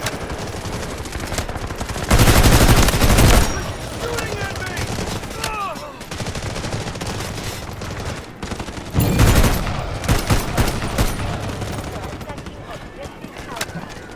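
Full-auto fire from an M14 marksman rifle in the Delta Force shooter game comes as two loud, dense bursts of rapid shots amid quieter in-game noise, with a voice talking excitedly between the bursts.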